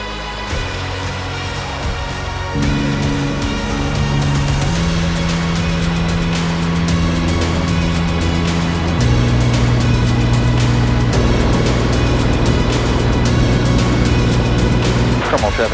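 A small plane accelerates on its takeoff roll at Wanaka, New Zealand, the engine loud and steady with rising tones as it gathers speed, heard from inside the cockpit.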